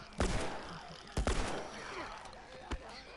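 Several sharp gunshot bursts from a shooter in the Devil May Cry HD Collection video game, spaced irregularly across a few seconds, fairly loud against a quiet noisy backdrop.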